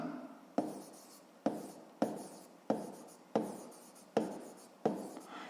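A pen strikes paper in seven sharp, evenly spaced taps, each followed by a short scratchy stroke that fades, close and fairly quiet with no talking.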